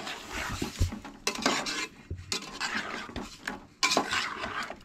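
A spoon clanks and scrapes against a pot as jaggery is stirred into Goan mango sasav, a steady rhythm of metallic knocks and gritty scraping in repeated strokes, close and fairly quiet.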